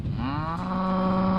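A dairy cow from a 350-head herd on a drought-stricken Australian farm gives one long, loud, close moo lasting over a second, clear and steady with no other voices.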